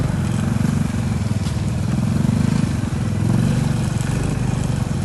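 A motorcycle engine runs close by with a continuous, loud, low chugging drone that holds steady throughout, no voices over it.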